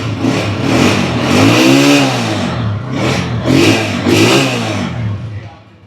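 A Hi-Speed Range SR-150 150cc motorcycle fitted with a Honda CG 125 exhaust revs close by in several rising and falling bursts, its throaty exhaust note rumbling between throttle blips and fading into a softer idle at the end.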